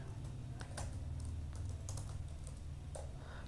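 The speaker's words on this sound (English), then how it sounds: "I am typing with this font." Steady rapid typing on a computer keyboard, close up, with quick uneven key clicks over a low constant hum.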